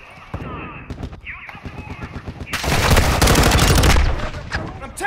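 Bursts of automatic gunfire in Call of Duty: Modern Warfare II, with sharp broadband cracks building into a dense, loud volley of shots in the second half, mixed with game sounds and effects.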